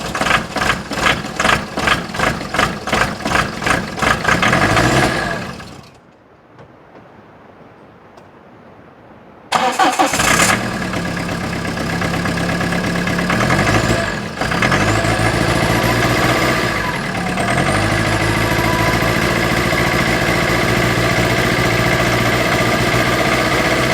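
A Citroen Berlingo diesel with glow plug trouble cranks hard from cold with loud rhythmic starter pulses, falls quiet for a few seconds, then catches into a rough, loud, lumpy idle that settles into a steady close running drone.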